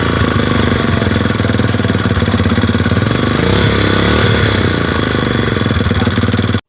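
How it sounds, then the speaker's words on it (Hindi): A small 100cc motorcycle engine runs at a loud, steady idle close by after starting, its rapid putter continuous throughout. "ये दोस्तों हमारी मोटर बाइक स्टार्ट हो चुकी है"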